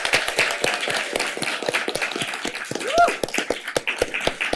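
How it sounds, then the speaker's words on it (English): Audience applause at a Santa Monica city council meeting, steady scattered clapping from a modest crowd filling the room throughout, with a brief murmur of voices partway through. "I think it's appropriate to give them a round of applause"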